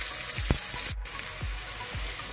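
Onions cut into half and quarter rings braise in a pan with toasted nuts, giving a steady, soft sizzle with a few faint clicks of stirring, close by and alone.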